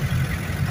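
A car engine idles steadily, a low continuous rumble with no revving, close and unbroken throughout the short stretch, no voices.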